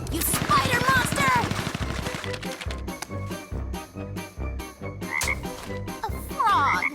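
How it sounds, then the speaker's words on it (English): Cartoon frogs croak in a busy forest scene, a rapid run of sharp, clicky croaks that repeat in bursts over several seconds, loud and close, with chirpy tones mixed in. "A frog."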